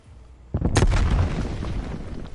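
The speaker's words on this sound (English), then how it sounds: "Throwing frag." A frag grenade detonates in a first-person shooter video game, one sudden heavy boom followed by a rumbling, decaying roar that lingers for nearly two seconds, loud and close.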